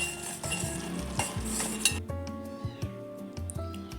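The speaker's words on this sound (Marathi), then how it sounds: "आपल्याला फक्त हा गुळ विरघळून घ्यायचा आहे" Jaggery melts with ghee while being stirred in a pan for dry fruit ladoo, a soft sizzle with repeated rhythmic scrapes and clinks of a spoon against the pan, fairly quiet and without speech.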